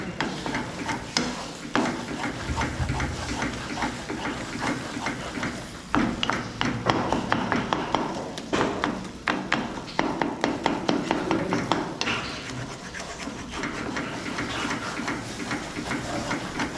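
Eggs are whisked in a bowl for a bread omelette with rapid, steady rhythmic taps of utensil against bowl, close and continuous with a few irregular clacks, no talking.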